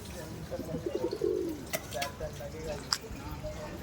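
Pigeon cooing from a flock as a hawk snatches a young pigeon, with a short burst of soft, bubbling coos in the first half, then faint chirps and scattered thuds against a noisy outdoor background.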